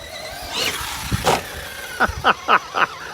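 An RC crawler truck, an SCX6 running on an 8S power system, whines and revs as it drives, with a rising motor sweep followed by four short, sharp squealing bursts in quick succession, close and clear.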